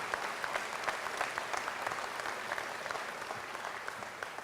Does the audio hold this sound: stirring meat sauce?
no